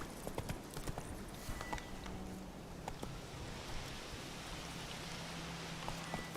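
Roach the horse's hooves clip-clop and gallop in The Witcher 3, a quick run of sharp, fairly close hoof strikes that thin out over a steady rain-like wash of game ambience.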